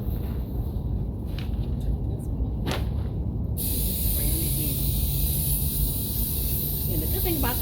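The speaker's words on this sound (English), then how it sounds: "Make sure you spray each one." Scotchgard fabric protector sprayed from an aerosol can onto outdoor egg chair cushions, a steady close hiss that runs on and brightens partway through, with a brief burst early on.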